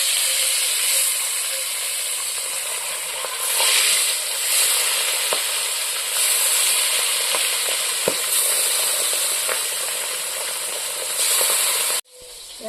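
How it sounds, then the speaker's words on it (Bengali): Pabda fish sizzle and crackle loudly in hot oil in a pan, a dense continuous frying hiss with scattered pops and a stir, cutting off abruptly near the end. "তেল গরম হয়ে গেছে, এখন মাছগুলো আমি তেলের মধ্যে দিয়ে দেব।"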